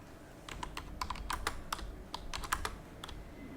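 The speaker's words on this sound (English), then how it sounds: "I will type here employee ID" Brisk, irregular keystrokes on a computer keyboard while an employee ID is entered into a report text box, each click sharp and close, with a faint steady background hum and no voices.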